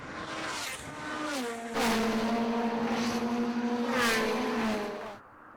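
Lotus Cup race cars at Snetterton accelerate hard at a rolling restart, a close, loud engine note climbing in pitch through gear changes, with the pack roaring past before fading out.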